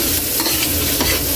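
Ginger frying and being stirred in a hot pan for ginataang kalabasa, a steady close sizzle with scraping stir strokes throughout, no voices.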